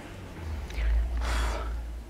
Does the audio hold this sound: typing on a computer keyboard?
no